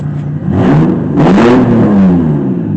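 A 2005 Honda Pilot engine revs hard, its pitch rising and falling in two sweeping pulls past three thousand rpm, loud and close with no talking.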